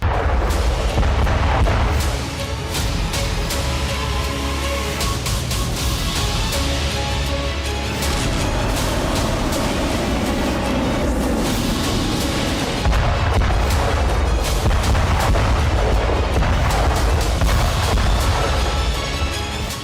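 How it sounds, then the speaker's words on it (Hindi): Cluster bomb munitions detonate in the Russia-Ukraine war, a dense run of loud booms and sharp bursts rolling one after another with no pause, heavy low rumble beneath crackling blasts. "ये विस्फोटक हैं क्लस्टर बम।"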